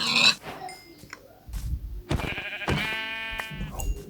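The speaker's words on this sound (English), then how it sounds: "Alright, and a sheep." A sheep bleats once in Minecraft, clear and close, among short thuds, rustles and other brief game sound effects.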